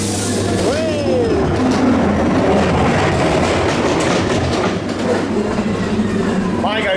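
A ghost train ride at Blackpool Pleasure Beach rattles and clatters steadily along rails, loud and close, with a squealing screech of wheels and voices faintly mixed in.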